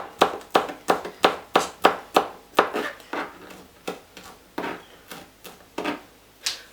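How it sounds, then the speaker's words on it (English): Very hot chillies are chopped with a knife on a board for onion bhajis, a quick run of about twenty sharp, evenly spaced close thuds that slow slightly and grow softer toward the end. "So I'll just chop them up."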